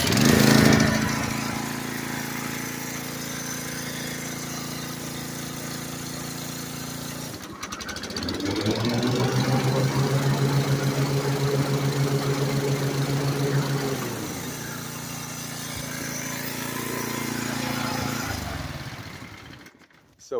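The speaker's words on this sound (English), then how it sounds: "That's going to disengage the blade, but it's still going to leave the engine running" A Turfmaster HDX 30-inch commercial walk-behind self-propelled mower engine runs with the blade disengaged, a continuous rumbling drone that swells louder midway, eases back, then rises again before cutting off.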